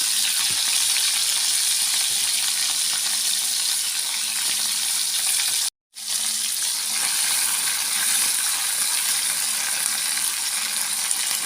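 Tiwul fried in a pan with small dried salted fish crackles in a steady, dense sizzle that runs throughout, with one brief cut to silence midway.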